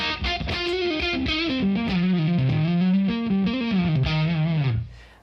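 Electric guitar played through an amp in a studio, chorus and reverb switched off so only the natural room ambience remains; a sustained melodic line with driven tone rings loudly and steadily, then fades out at the end.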